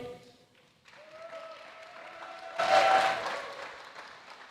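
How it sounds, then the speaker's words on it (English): An audience applauds a second-place racer driving a Ferrari at a VGP Teleios Dome race ceremony, clapping rising over a low hum and swelling to a burst before easing off. "In second place, a round of applause for Emil in the Ferrari."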